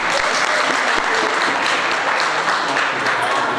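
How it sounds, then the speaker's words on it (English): An audience at a law moot court competition gives a loud, continuous round of applause, a dense, even roar of many hands clapping close by throughout. "let's give him a round of applause"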